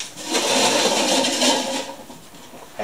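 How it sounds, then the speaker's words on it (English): A stool scrapes and rubs against the floor as it is dragged into place, a close, rough, continuous scuffing that lasts a couple of seconds before easing off. "That sound you hear is my stool that I'm going to sit on."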